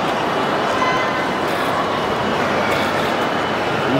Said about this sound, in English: So right now we are in train station.